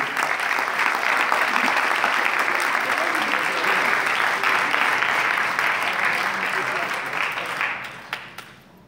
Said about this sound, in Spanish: Vamos a darle un aplauso al 4,